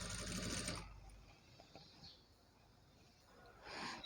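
A sewing machine runs a top stitch on a Punjabi dress top in two short bursts, one at the start and one at the end, with quiet handling sounds between them.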